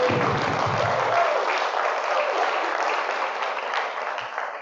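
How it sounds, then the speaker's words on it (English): Audience applause at a community meeting, a steady full round of clapping from a crowd sustained evenly throughout and tapering slightly at the end. "So let's give them another round of applause."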